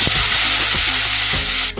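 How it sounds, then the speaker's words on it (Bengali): Whole cumin seeds and bay leaves fry in a little oil in a kadai with a loud, steady sizzle and crackle throughout, close by, with no talking. "তেজপাতা, জিরে ভাজা হয়ে এসছে"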